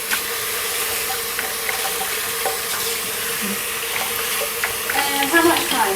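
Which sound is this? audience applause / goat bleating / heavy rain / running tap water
running tap water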